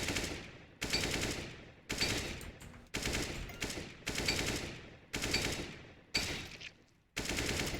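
Rapid bursts of gunfire in a CS:GO aim-training shooting range, loud close shots repeating in short volleys about once a second with brief gaps between.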